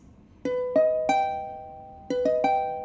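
Two augmented piano chords played as quick upward arpeggios, three notes each, ringing out clearly with no voices.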